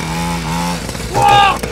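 A cheap Temu mini motocross bike's small engine whines and revs hard during a wheelie attempt, its pitch climbing loudly and close, then dipping.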